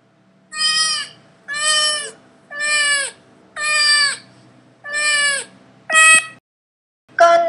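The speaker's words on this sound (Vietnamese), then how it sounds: "Con mèo." A cat meows repeatedly in a steady rhythm, six clear, loud, close calls of similar length evenly spaced, followed by the start of another.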